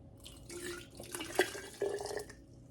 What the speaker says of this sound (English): So the first green tea is being poured.